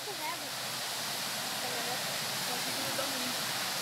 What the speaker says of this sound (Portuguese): Chegando aqui na cachoeira de Bilate.